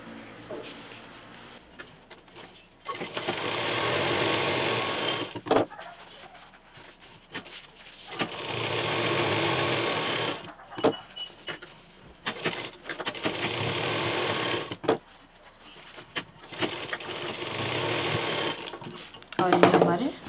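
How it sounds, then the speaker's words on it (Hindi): A finishing sewing machine stitches a potli bag in bursts of rapid whirring, several runs of a few seconds each with short pauses between, close and fairly loud. "फिनिशिंग वाली मशीन चला"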